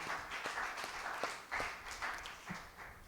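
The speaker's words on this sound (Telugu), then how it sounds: "ఆ యొక్క దేవాతి దేవునికి గట్టిగా చప్పట్లు కొట్టి స్తోత్రం చెల్లించుకుందాం" Congregation clapping during a Catholic Holy Mass, a dense wash of steady applause from a crowd filling the church at moderate distance, continuous over the whole moment.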